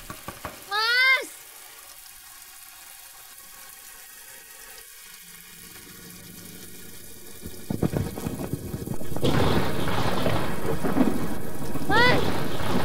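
Heavy rain pours steadily in a thunderstorm, a dense hiss that swells louder partway through with low thunder rumbling beneath, after a brief rising chirp at the start; no speech.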